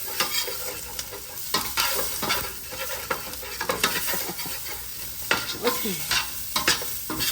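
Spatula stirs and scrapes frying red peppers and garlic across a hot pan bottom, giving a steady sizzle broken by repeated sharp scraping strokes up close; one brief spoken word.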